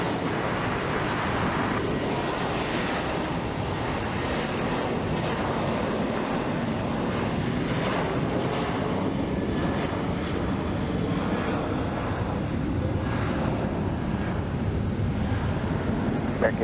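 A jet airliner at Phoenix Sky Harbor International Airport rumbles steadily and broadly for the whole stretch, a continuous roar of engine noise with no break in level.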